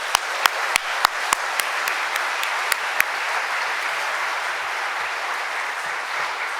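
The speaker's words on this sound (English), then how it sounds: "One more giant round of applause." Audience applause for recipients of the Presidential E and E-Star Awards for export achievement, a sustained, even wash of many hands clapping in a hall, with a few sharp louder claps standing out early on.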